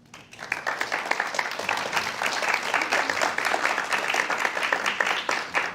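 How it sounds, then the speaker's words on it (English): Audience at a conference session applauds panelists, steady sustained clapping from a room full of people lasting several seconds, fairly close and even. "Please give them a round of applause."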